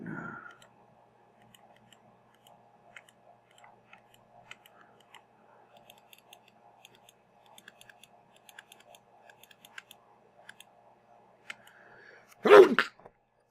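Light keyboard tapping scattered across a quiet room, then one sudden loud sneeze near the end.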